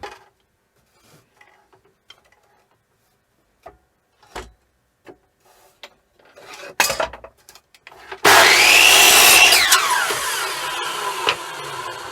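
A power saw cuts wood pieces for a coffee table: a few quiet knocks and handling noises, then the saw starts abruptly and runs loud and steady through the cut, its pitch dipping under load, no talking.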